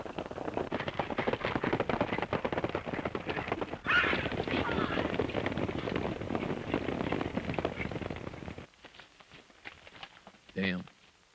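Horses in an old sci-fi serial, rapid clip-clop of hooves galloping past with whinnies, mixed under voices and a sharp crack near the end.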